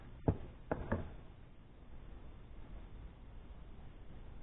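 A gold pan is knocked a few times to settle the material inside, giving three sharp taps close together at the start, followed by a low steady background hiss.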